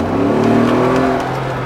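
A Mercedes G63 AMG engine revs loudly with a deep, throaty roar that swells and holds, then eases slightly, close and dominant with no talking.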